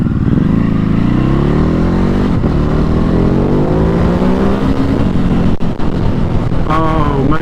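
A Ducati Hypermotard 950 SP motorcycle on its first ride, being run in gently: a loud, close engine drone climbs steadily in pitch through the gears, then eases off near the end.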